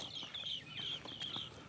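Birds calling on a breezy hilltop at Kanakamala, with repeated clucking, fowl-like calls rising and falling over steady wind noise across the short stretch.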